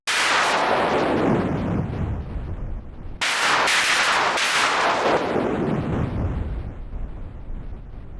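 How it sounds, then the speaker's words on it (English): Noise patch on a 6581 SID chip synthesizer with randomized pitch and amplitude, two loud harsh bursts of hiss that sweep and decay like explosions, alone. "Another noise sound again, this time with randomized pitch and amplitude"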